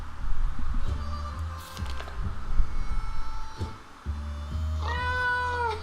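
A synthetic cat meow in the video game 60 Seconds IV rises near the end over a steady electronic hum and soft clicking game sounds.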